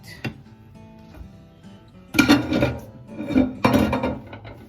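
Dishes and cutlery clink and clatter in bursts during cleanup after a Christmas meal in Yokosuka, Japan, with sharp metallic and ceramic knocks, some louder clusters close by.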